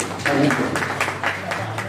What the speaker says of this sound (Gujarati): સૌ ખૂબ ખૂબ તાળીઓથી એમને આપણે સ્વાગત અને બિરદાવીશું